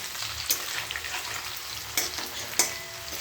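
Bora fritters sizzling in a pan, a constant frying hiss broken by a few sharp clatters and scrapes of a utensil against the pan, close and fairly loud.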